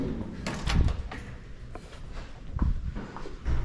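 A manual glass building door on a college campus, formerly automatic, being pushed open: a couple of close thumps and a clunk, with a rush of air and movement, and almost no talk.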